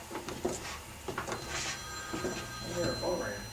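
A phone rings indoors beside a 40 kW generator setup, its steady electronic tones sitting under people talking nearby and some scattered knocks and clatter.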